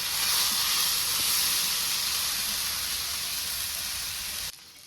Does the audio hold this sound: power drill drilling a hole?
no